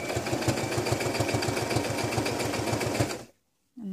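A sewing machine stitches fabric for a skirt, running at a steady fast rhythmic clatter for about three seconds, close and loud, then stopping abruptly into silence before a faint rustle.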